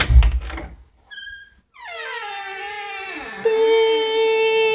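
Creaking bathroom door hinges let out a long, rising and falling squeal that swells into a sustained, horn-like groan, close and loud after a thud and a short squeak.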